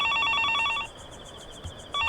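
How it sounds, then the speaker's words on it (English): Telephone in the Higurashi video game ringing in a steady electronic double-burst pattern, loud and close, with a short pause between rings and no talk. "Once again, the telephone started ringing."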